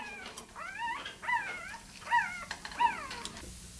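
Newborn puppies whimpering in a few high, rising-and-falling cries spaced about a second apart, faint and fairly close over a quiet background, with no talking.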